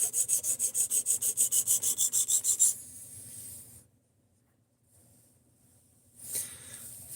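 A knife is drawn rhythmically across a sharpening stone, about fifteen quick rasping strokes close to the mic, then a pause and one more scrape.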